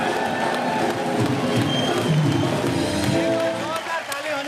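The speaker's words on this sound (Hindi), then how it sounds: "जोरदार ताली" A studio audience at a comedy show cheers and claps, a dense mix of applause and excited crowd voices with music-like tones beneath, steady and fairly loud throughout.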